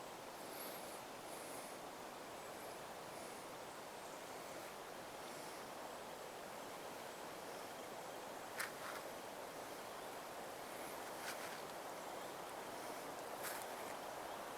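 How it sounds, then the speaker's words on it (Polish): Steady, even rushing of water flowing in a small stream through the Batorów peat bog, a soft constant wash with faint brief clicks on top. "Spokojnie, leniwie strumyczek sobie płynie."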